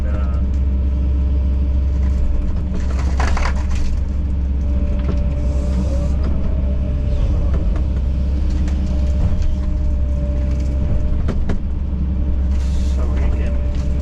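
Heavy machine, a 210 excavator, driving across an earthen pond dam, its engine a loud steady rumble throughout with occasional clanks and squeals rising over it.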